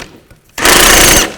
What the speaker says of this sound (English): I'm going to use an 18mm socket, take this nut off.